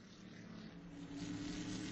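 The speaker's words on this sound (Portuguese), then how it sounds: "Aí vem o Felipe acelerando forte, e dá pra gente perceber na imagem a diferença de performance dos dois carros" A Stock Car race car accelerates hard on track, giving a loud, steady, dense engine roar that builds slightly in strength over two seconds, with no talking.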